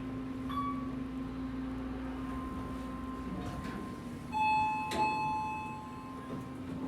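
An Otis elevator hall arrival chime sounds in a theatre building, a single ding with high and low tones ringing together, clear and fairly close over faint background hum.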